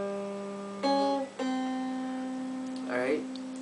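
Single guitar strings plucked one note at a time for the opening of Happy Birthday, a few close, clean notes ringing out with a brief vocal sound near the end.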